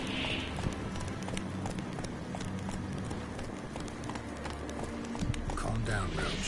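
Roach, the horse in The Witcher video game, gallops with a fast, rhythmic clip-clop of hooves under game ambience, while a voice speaks over it.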